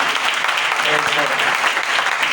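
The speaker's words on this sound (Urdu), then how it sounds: "آئیں ایک بار پھر زوردار تالی بجا کر خداوند کے کلام کی عزت کریں" Loud, dense applause rings out in a church meeting on a Sunday morning, sustained clapping from the congregation with a voice talking over it.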